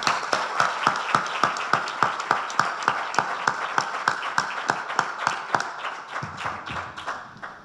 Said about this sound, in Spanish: voy a pedir un aplauso para él